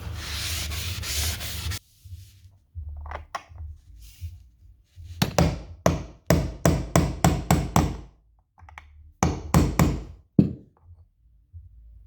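A hammer sets finish nails into wooden door trim, with a short burst of rubbing followed by clusters of sharp, close taps in quick rhythmic runs separated by quiet pauses.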